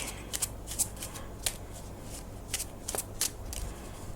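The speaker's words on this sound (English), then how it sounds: "I'm using my playing card deck." A deck of playing cards is shuffled in close, quiet surroundings, giving a series of short crisp riffling bursts at an uneven rhythm, with soft papery flicks between them and no talking.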